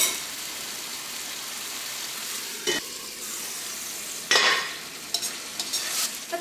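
Chopped tomatoes sizzle steadily in a pan while cooking for a Kerala tomato theeyal curry, with a few stirring scrapes and clinks of a spoon partway through, close and without speech.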